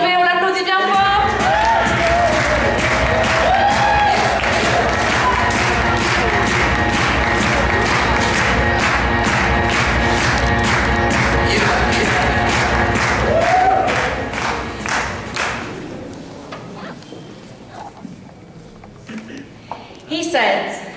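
A slam poetry audience breaks into loud, sustained applause and cheering for a poet, dense rapid clapping with shouts running for several seconds before tapering off into scattered claps, with voices heard at the start.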